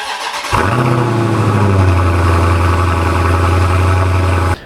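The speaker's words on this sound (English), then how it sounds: "I don't know if you guys have ever heard stock Challenger exhausts, especially the ScatPack." A stock Dodge Challenger ScatPack exhaust rumbles into a loud, steady idle close by, with no talking, then cuts off abruptly at the end.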